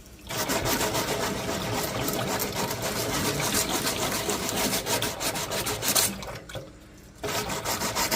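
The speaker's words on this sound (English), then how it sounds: "something you also can use is a very fine grit sandpaper" Very fine grit sandpaper, 800 and up, rubbing the paint on a Tamiya CC-02 RC car body: a continuous close abrasive scratching in quick strokes, pausing briefly near the end before resuming.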